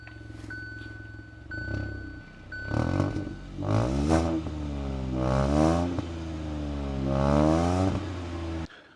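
A sporty compact car's engine revs repeatedly from idle, each throttle blip rising and falling in a loud, rumbling sweep with a roaring edge, the revs growing longer and fuller toward the end.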